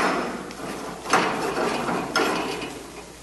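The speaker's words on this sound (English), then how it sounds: "Take your drain pipe and screw it into place." Drain pipe being screwed into place on a commercial fryer, giving metallic ratcheting and clanking with two sharper knocks about a second apart, close and moderately loud, no talking.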